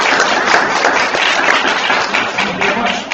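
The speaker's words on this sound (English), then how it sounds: "let's give Brian a round of applause for his awesome job" A press-conference audience applauds for a colleague, a loud, dense wash of many clapping hands close by, sustained and even throughout with no speech over it.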